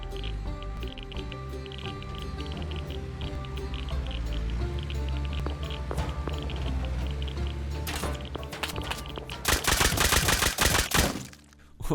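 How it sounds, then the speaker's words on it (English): Many gunshots crackle in the distance in Rust, a dense scattered stream of faint pops and bursts that swells into a louder cluster of rapid shots near the end. "I don't think I've heard that many gunshots in a single spot in a while."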